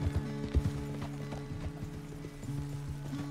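Steady clip-clop of horse hooves at a walking pace in the video game Red Dead Redemption 2, with a low continuous hum running underneath.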